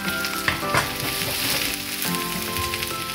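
Mushrooms and garlic frying in olive oil in a pan, a steady close hiss of sizzling with a few louder pops and stirring scrapes, no voices.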